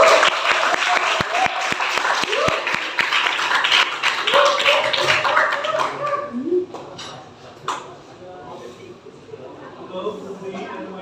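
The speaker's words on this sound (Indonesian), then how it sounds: "berikan aplaus untuk kita semua" A classroom of students claps together, a burst of brisk applause that rises and then thins out into scattered claps, with voices and chatter mixed in and continuing afterward.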